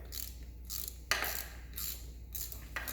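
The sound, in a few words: ratchet removing a bolt from a 2015 Polaris Scrambler 1000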